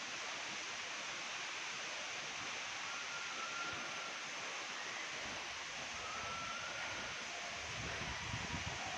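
Talakona waterfall roaring as a steady, dense broadband rush of falling water, constant and fairly loud throughout with no voices, blended with outdoor ambience.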